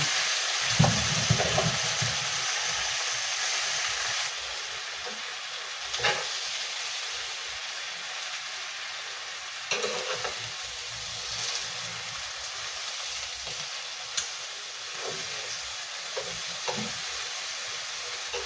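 Kangkong stir-frying with onion, tomato and garlic in a hot pan: a steady sizzling hiss runs throughout, broken by several scraping stirs and brief bursts of louder crackle, with no talking.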